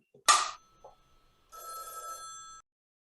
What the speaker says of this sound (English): Again, you get the phone ring